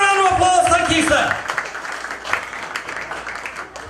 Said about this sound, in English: We got 3, give the man a round of applause, thank you, sir.